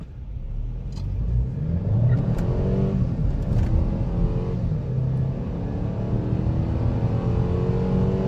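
A 2018 Mercedes CLA 250 pulls away hard from a traffic light, its engine rumbling up through rising revs with gear changes stepping the pitch, heard loud and close from inside the car with no talking.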